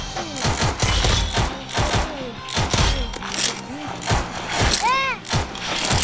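Video game gunfire in repeated sharp bursts and single shots, loud and irregular, with voices talking over the action.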